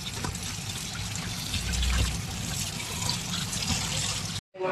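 Steady running water splashing in a kitchen while raw fish for a Bengali fish curry is washed, a continuous close trickle and pour that cuts off abruptly at the end.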